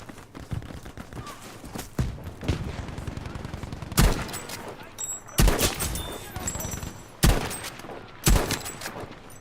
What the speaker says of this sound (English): This thing is rapid fire for a bolt action.